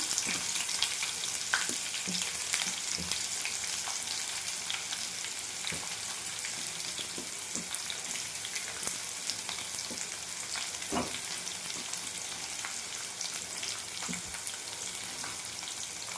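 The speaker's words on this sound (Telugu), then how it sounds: "వెల్లుల్లిపాయలు కొంచెం అట్లా మగ్గాల. ఉల్లిపాయలు," Garlic and onions sizzle steadily in a hot pan for a Telugu okra curry, with a continuous close frying hiss broken by occasional stirring clicks and crackles, and no talking.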